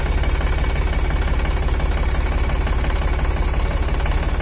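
An Iseki NT540F tractor engine runs steadily at idle nearby, giving a loud, even, rapid diesel knocking throb with no speech over it.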